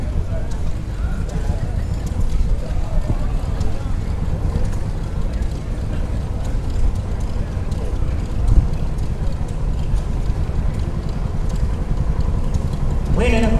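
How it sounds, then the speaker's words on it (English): A 60 horsepower single-cylinder Lanz tractor engine idles at a steam show, giving a steady low chugging rumble with faint irregular knocks throughout, with someone talking over it. "One of the largest single-cylinder Lance tractors they built,"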